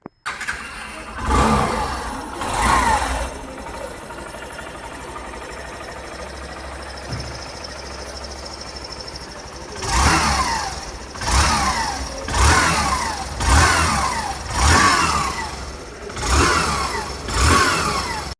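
A Hero Glamour 125 motorcycle is self-started and left running, its engine idling smoothly up close, then revved in several repeated bursts that rise and fall in a regular rhythm.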